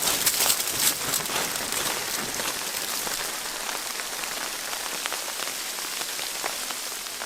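Freezing rain pattering steadily and densely on a hammock tarp during a winter storm, a close continuous crackling patter with no voices.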